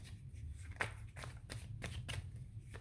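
Tarot cards shuffled by hand for another draw, several soft riffling and slapping bursts close by at low volume, with no talking.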